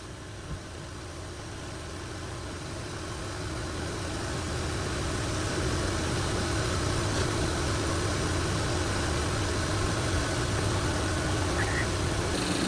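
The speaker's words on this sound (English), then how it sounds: "with the engine still running" A Chevy Equinox or GMC Terrain engine idles with a steady low rumble and vibration, growing slightly louder at first then holding constant; no talking.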